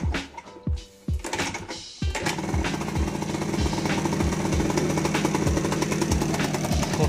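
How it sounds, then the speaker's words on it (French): A 1999 MBK Spirit scooter engine fitted with a Yasuni Eco exhaust cranks with a few short kicks, then catches and settles into a steady, loud, buzzing two-stroke idle close by. "On va voir ensemble si ça démarre."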